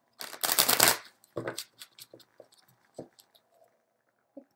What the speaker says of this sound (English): Yeah, these are not wanting to shuffle.